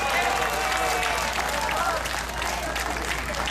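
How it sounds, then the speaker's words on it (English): Rally crowd applause outdoors in Yigo, Guam, a continuous wash of clapping with a steady low hum beneath and some voices mixed in. "Give him a round of applause."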